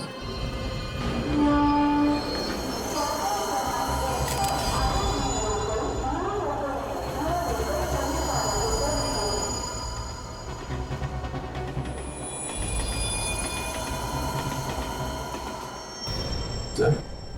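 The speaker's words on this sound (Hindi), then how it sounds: "फ्रेडी, पता लगाओ ये ट्रेन आई कहां से है" A train rumbles past nearby, a loud sustained roar with metallic screeching and rattling wheels that eases off then swells again, with faint voices underneath.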